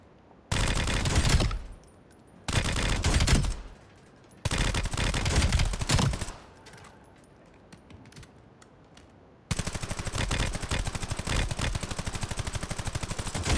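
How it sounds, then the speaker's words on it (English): Automatic gunfire hits four steel plate targets on a firing range. Three sharp, close bursts are separated by pauses, then a long continuous stream of rapid shots follows, with no talking. "So, I'm going to shoot all 4 targets."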